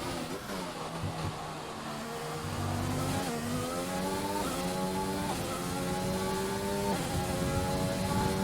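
A Racing Point Formula race car in a racing video game on the Azerbaijan circuit powers onto the pit straight, its engine note climbing through a run of upshifts, loud and close, with faint tire noise and no talking.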